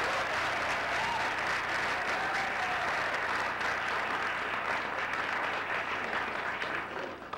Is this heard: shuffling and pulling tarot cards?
no